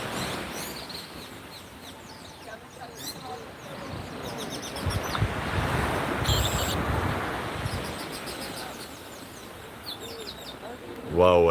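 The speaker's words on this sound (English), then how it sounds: "I don't know if you all heard the rainbirds in the background." Rainbirds and blackbirds call and chirp in repeated bursts at Heywoods Beach in St. Peter, Barbados, set against a steady wash of surf and breeze. The calls are moderately distant and sometimes fall under faint talk.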